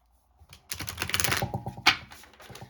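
An oracle card deck is shuffled up close in quick, crisp riffles and flutters of card stock, building to a louder snap before trailing off.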